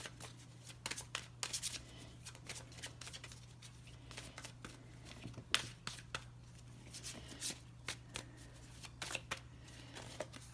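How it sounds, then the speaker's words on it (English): A deck of Star Dragons oracle cards is shuffled by hand, giving repeated quick riffling bursts and soft flicks, close and fairly quiet over a low steady hum. "we're going to grab a Star Dragons card for Gemini for this reading"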